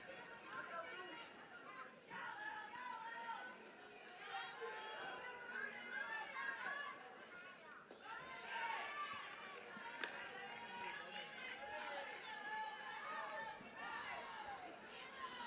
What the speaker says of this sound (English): Good crowd on hand